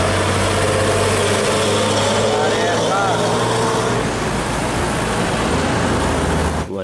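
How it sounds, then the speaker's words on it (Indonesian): Container truck car carrier running with a steady low engine rumble amid continuous road traffic noise, loud and constant throughout, with a faint higher whine passing partway through. "Ada mobil truk kontainer pengangkut mobil teman-teman."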